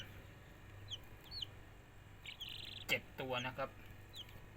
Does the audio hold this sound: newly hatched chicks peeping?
yes